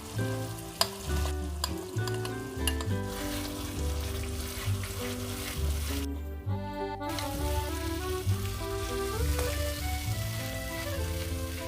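A steady, dense sizzle of frying in a pan of mustard fish curry as tomato paste goes in, continuous and moderately loud under background music, with no talking.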